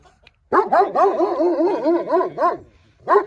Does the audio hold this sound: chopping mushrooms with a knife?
no